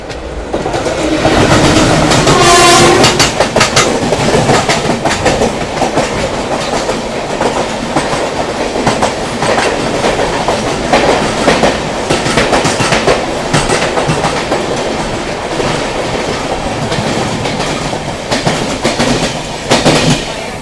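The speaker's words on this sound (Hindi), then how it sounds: "शिवाजी नगर से निकलते ही हमारी क्रॉसिंग हुई the legendary Deccan queen express के साथ" The legendary Deccan Queen Express passes close by on the opposite track just out of Shivaji Nagar, a loud, steady rush of rolling carriages with rhythmic clickety-clack of wheels over rail joints throughout, heard from aboard another train.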